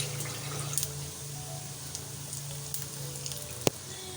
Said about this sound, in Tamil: கடுகு வந்து நல்லா வெடிக்க ஆரம்பித்ததும் கொஞ்சமாக நம்ம வந்து உளுத்தம்பருப்பு ஆட் பண்ணிக்கலாம்